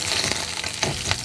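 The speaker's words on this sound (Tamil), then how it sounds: "தக்காளி நல்லா கொதிக்க ஆரம்பிச்சு எண்ணெய் நல்லா பிரிஞ்சு வந்திருக்கு" A tomato and oil masala for an ivy gourd gravy fries in a pan, a close, continuous sizzle and crackle with a few soft stirring scrapes and no talking.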